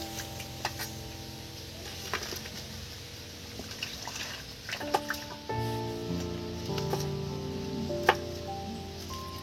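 Tap water trickles and drips steadily while vegetables are washed in a home kitchen, with small clinks and knocks of handling and a steady hum underneath, close by with no talking.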